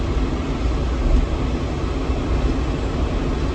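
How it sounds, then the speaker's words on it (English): A John Deere 7410 tractor with a PTO that won't shut off, heard as a loud, steady, broadband engine and driveline roar held close throughout as the PTO engages, with no talking. "I'm gonna turn the PTO on."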